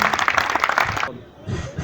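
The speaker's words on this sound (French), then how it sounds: "des acclamations nourries, des acclamations nourries" A brief burst of crowd applause at a ceremony commemorating the Congolese genocide lasts about a second, then cuts off sharply, and a voice follows.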